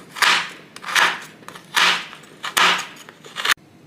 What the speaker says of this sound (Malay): Gula Melaka ni Pakcik potong halus-halus, hancurkan dia.